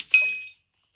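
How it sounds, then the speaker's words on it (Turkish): Glass breaking in Minecraft, one short bright tinkling crack that fades within half a second. "Hemen şu yan cam kırabilir miyim?"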